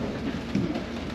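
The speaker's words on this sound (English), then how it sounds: "It is still raining, not so many people outside." Steady rain falls outdoors in Stavanger, a dense, even hiss of drops on wet surfaces, close and continuous, with no voices.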